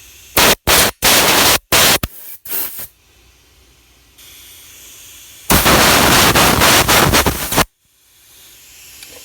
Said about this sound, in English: now what I'm going to do is do some compressed air